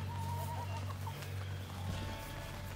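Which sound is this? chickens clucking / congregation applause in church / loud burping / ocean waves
chickens clucking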